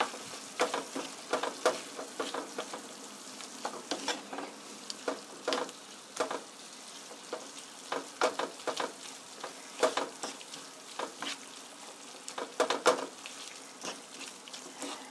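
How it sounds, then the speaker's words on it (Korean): Roasted chunjang black bean paste is stir-fried with onion and green onion in a pan, producing a low sizzle under irregular scraping and tapping of a spatula, fairly quiet and close. "볶은 춘장 이렇게 넣어주시고요. 같이 볶아주세요."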